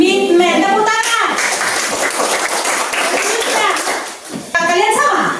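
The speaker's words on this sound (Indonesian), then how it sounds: "Tepuk tangan." A classroom of children claps together in a burst of dense, lively applause lasting a few seconds, with young voices talking just before and after.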